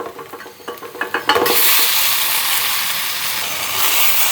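A spoon scrapes and stirs boiled plantain into a sautéed mixture in a pan. Soft clinks at first, then a steady close-up sizzle with scraping continues to the end.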